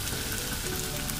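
Onion and garlic sizzle steadily in a frying pan at the start of a lamb machboos sauce, a dense continuous crackle and hiss with no talk.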